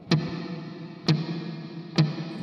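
A Flamma FS02 reverb pedal with pre-delay at maximum: three evenly spaced sharp clicks, each followed by a delayed, sustained reverb wash that fills the gaps, moderately loud and alone.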